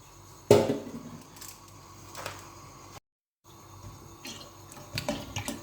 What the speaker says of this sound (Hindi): सबसे पहले हम डालेंगे पतीले में दूध।